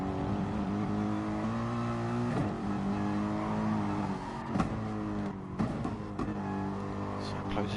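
A Ferrari Gr3 race car drifting out of a corner at Fuji Speedway in a racing game, its engine droning loud and steady with shifting revs and brief gear changes, under a commentator's voice.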